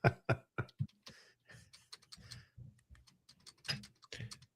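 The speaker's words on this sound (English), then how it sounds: "I still hear typing going on." Fast keystrokes on a computer keyboard, a quick burst of clicks at the start followed by steady, lighter tapping, heard close and on its own.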